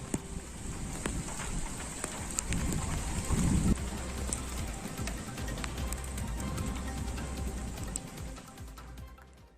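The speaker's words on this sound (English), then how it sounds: "Uttarakhand's Bhageshwar witnessed a heavy hailstorm" Heavy hail and rain pounding down in Bageshwar, Uttarakhand, a dense steady clatter with scattered sharper impacts and a low rumble beneath, close and fairly loud throughout with no voices.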